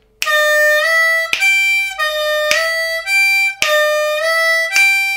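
Blues harmonica phrase played as a bent 4 draw sliding up into a 5 draw, placed off the beat; four clear repeated note pairs with sharp attacks, solo and close up.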